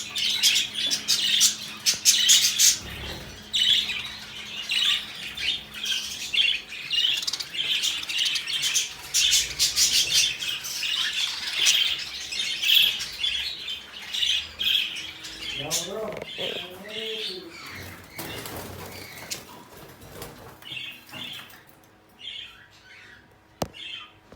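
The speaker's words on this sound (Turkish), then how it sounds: "150 tane kuş var." A flock of about 150 caged birds squawks and chirps continuously and loudly, dense overlapping calls filling the room, with a few clearer warbling calls near the end.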